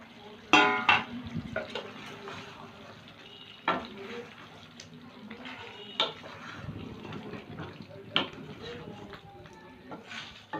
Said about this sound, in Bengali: আলুগুলো একটু মিশিয়ে নিলাম।